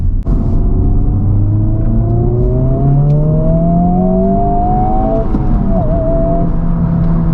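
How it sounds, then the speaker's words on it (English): A 2023 Honda Civic Type R (FL5) in R+ mode makes a hard second-gear pull, its engine note climbing steadily in pitch, loud and close, with a brief dip near the end before the revs pick up again; no talking. "Okay, R plus R mode. I'm gonna do a second gear pull"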